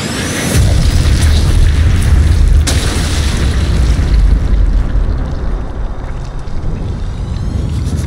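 A grenade explosion in the video game Sniper Elite 5 bursts loudly with a deep boom, then settles into a long, dense rumble that slowly fades.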